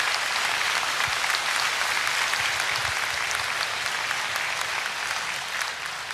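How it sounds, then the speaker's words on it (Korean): Sustained applause from a sizable concert audience at a Jeju 4.3 memorial concert, dense and even clapping that holds steady for several seconds and eases slightly toward the end. "정말 아름다운 무대 보여주셨던 두 분께 다시 한번 큰 박수 부탁드립니다"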